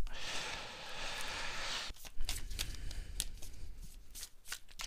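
Oracle cards are shuffled in a steady dense riffle, then drawn with a few short, crisp card snaps and slides close up.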